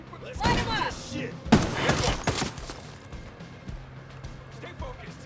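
Gunfire in the Ghost Recon Breakpoint video game, sharp bursts of rapid shots in clusters near the start and middle, with voices talking over the firefight.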